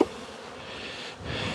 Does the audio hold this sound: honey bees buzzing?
yes